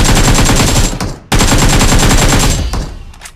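Sustained automatic gunfire in the PUBG video game, loud and close: a long rapid burst, a short break, then another long burst that trails off.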